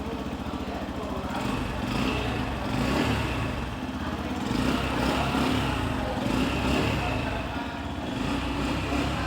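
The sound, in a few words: motorcycle engine revving with throttle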